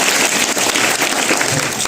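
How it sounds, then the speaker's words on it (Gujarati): Children and audience at a science awareness show applauding a child named Hardev, a dense continuous clatter of many hands lasting about two seconds, fairly loud and without speech. "હરદેવ માટે જોરદાર તાળીઓ"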